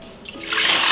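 Warm water pours into a bowl or mixer for challah bread dough, a short, steady trickle that builds to a fuller, louder stream near the close, with no other sound.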